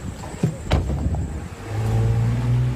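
A car engine revs and accelerates somewhere nearby, a rising drone building under faint background noise after a couple of sharp knocks.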